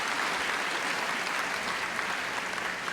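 Sustained applause from a graduation audience in 2019, thick and continuous clapping from a large crowd, loud and uniform throughout with no voices breaking through.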